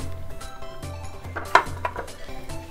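Utensil stirring and scraping in a bowl as grated cabbage is mixed into a spiced potato mixture for aloo tikki, with soft irregular clinks and one sharper knock midway; near, no talk.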